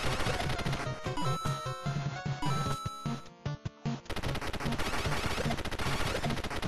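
Rapid bursts of buster shots from Mega Man in the Super Mario Crossover platform game, a dense, loud stream of gunfire-like pops with brief pauses, set against busy game music.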